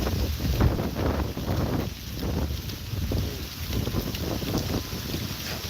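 Strong wind buffets the microphone in a steady, loud rushing roar with gusty swells and low rumble, continuous for the whole stretch with no voices.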